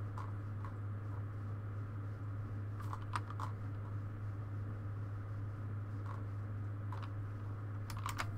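Computer keyboard keys tapped in short scattered bursts, faint under a steady electrical hum, with no talking.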